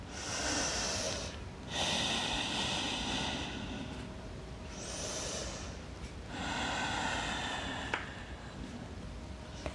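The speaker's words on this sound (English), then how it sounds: "taking about 3 to 5 breaths here, depending on the pace of your breath" Deep, slow breaths during a yoga flow held in downward dog: long audible inhales and exhales through the nose, close and steady, a few cycles with soft hiss between, no talk.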